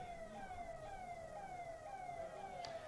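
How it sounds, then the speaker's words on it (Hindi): An ambulance siren sweeps steadily through the whole stretch at an outdoor political rally during the Bharat Jodo Yatra, a continuous wailing tone over crowd and road noise with no talk. "भैया ये एम्बुलेंस है क्या?"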